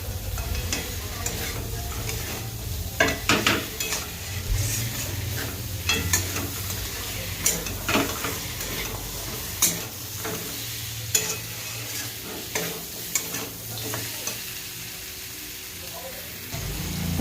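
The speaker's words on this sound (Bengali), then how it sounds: "দিয়ে দিলাম ভেজে রাখা মাছের মাথাগুলো। মশলার সাথে একটু সুন্দর করে নেড়ে নেব।" Fried fish heads are stirred into spice masala in a pan, giving a steady sizzle with repeated scraping and clacking of the spoon against the pan, fairly close and moderately loud.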